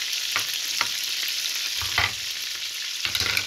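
Oil and a cube of butter heating in a frying pan, for an Egyptian-style okra and meat dish, making a strong steady sizzle with occasional pops and soft knocks of the pan, close and even throughout.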